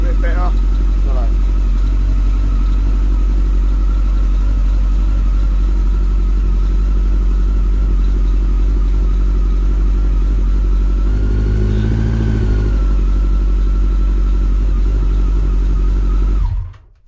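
A Yamaha XJR 1300 motorcycle engine with throttle position sensor trouble runs steadily up close for the whole stretch, with a brief rev swelling around the middle before it cuts out at the end.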